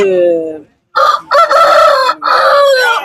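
Loud, close rooster crows at a Kunnathur livestock market, one after another, with brief gaps between the calls.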